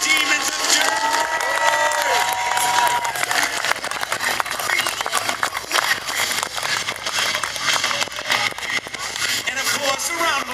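A large outdoor crowd claps, cheers and whoops for the Crusty Demons of Dirt motocross stunt riders, a dense, steady roar of applause with a voice talking over it.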